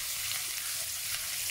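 Ginger and garlic sizzle steadily in a hot pan while cooking chicken chowmein, a constant close hissing fry with faint stirring and no voices.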